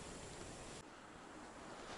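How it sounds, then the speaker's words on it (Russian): Steady broadband wind roar through a forest, a continuous rushing hum without pause or voices. "Слышите, как гудит ветер"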